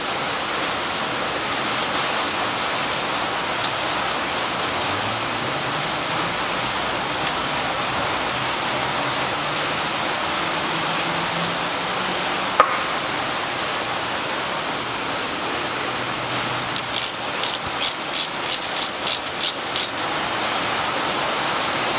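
Steady, dense heavy rain hiss outdoors during a Mitsubishi ASX wheel bearing replacement fills the whole stretch, continuous and broadband, with a brief run of faint ticking knocks near the end.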